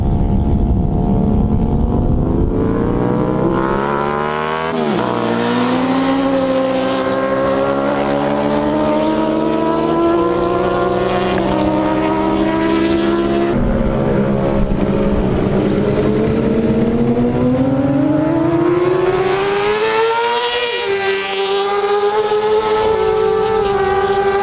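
Racing motorcycles at a road race tear through corners and down the straightaway, engines wailing and rising in pitch as each bike accelerates, with repeated shifts and passes close by.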